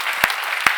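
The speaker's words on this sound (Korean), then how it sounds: "우리 하나님께 감사의 영광의 박수 올려드립시다" A congregation at a Korean church healing service claps together in a brief, even burst, with a couple of sharper claps standing out near the front.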